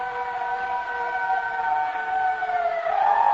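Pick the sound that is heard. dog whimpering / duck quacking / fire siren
fire siren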